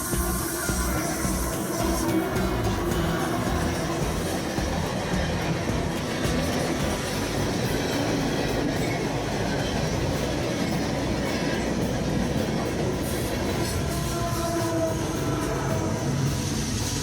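A train rolls past close by near the CP Yale tunnels in the Fraser River canyon, a loud continuous rumble of wheels and cars with rhythmic clatter and faint squeals lasting the whole stretch, with no voices.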